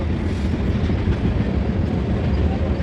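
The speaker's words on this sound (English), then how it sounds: "What's that? Train." A train rolls past close by, a loud, steady rumbling clatter of wheels on rails that holds constant with no talk over it.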